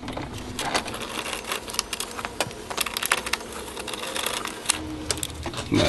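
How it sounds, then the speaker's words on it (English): Two 10 mm bolts being worked loose with a ratcheting hand tool on a Yamaha G2/G9 golf cart, a close, busy run of rapid clicking and metallic ticks that continues steadily without talk. "we got to remove two 10 millimeter bolts"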